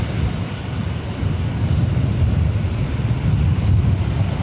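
An Emirates airliner going around at LAX airport produces a steady broad engine roar, moderately loud and rumbling, with no talk over it.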